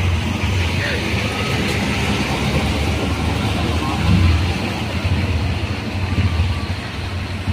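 A motorized tricycle engine rumbles past on a busy street near NAIA, blending into steady road and traffic noise, with people talking over it.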